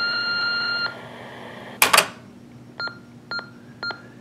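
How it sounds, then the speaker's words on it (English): A 1989 Panasonic Easa-Phone answering machine gives three short, evenly spaced electronic beeps marking the end of messages, clear and close in a quiet room after a brief burst of tape noise. "those three beeps just mean it's the end of the messages"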